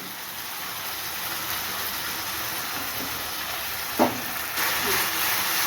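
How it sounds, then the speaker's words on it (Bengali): Spices, chopped tomato, turmeric and salt sauté in hot oil for a mutton-head mixed dal, giving a dense continuous sizzle close up, with one brief stirring knock and the frying growing slightly louder near the end. "এখন এগুলো একটু কষিয়ে নেব হালকা কষিয়ে নিই"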